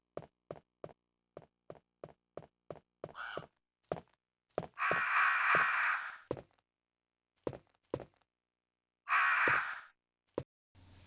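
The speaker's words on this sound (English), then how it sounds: "The sound for the crows is different on the Saturn." Harsh, electronic-sounding crow caws from the Sega Saturn version of the video game Resident Evil (Bio Hazard) come in two longer bursts, set among a steady run of short thumping pulses, loud and close.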